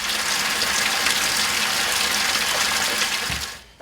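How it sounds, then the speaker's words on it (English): Water gushes steadily from a tap into a newly installed bathtub, a loud continuous rushing fill that holds evenly for over three seconds and then cuts off. "I'm gonna proceed with filling the bathtub with some water so it'll give it some weight"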